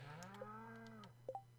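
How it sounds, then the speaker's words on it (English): Cattle in the farming video game Stardew Valley give a drawn-out synthetic moo, quiet and clean, followed by a couple of short chirpy game sound effects. "let's go feed the cows now"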